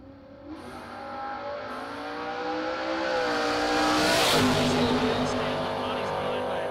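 Drag racing cars launching at Extreme Raceway Park in Ferris, Texas, engines revving and roaring louder as they accelerate away down the strip, with an announcer's voice over the noise.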